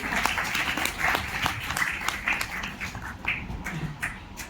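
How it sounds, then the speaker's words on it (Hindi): Audience applause at the Raman Science Centre during a World Environment Day event: dense, steady clapping from many hands, fairly loud and continuous throughout, with scattered sharper claps standing out. "आपने रमन साइंस के लिए एक बार जोरदार तालियां तो बजाना चाहिए।"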